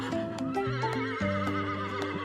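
Farm horse neighing repeatedly with a wavering, pitched whinny over steady hoof clip-clops, moderately loud and continuous, with no one speaking.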